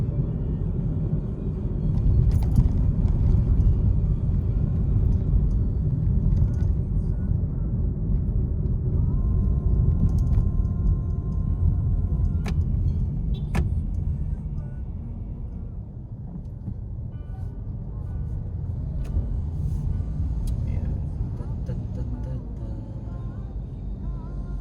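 Toyota Vios 1.3 XLE driving on a city road, a steady low rumble of engine and road noise that holds throughout, with a few faint clicks and tonal sounds on top.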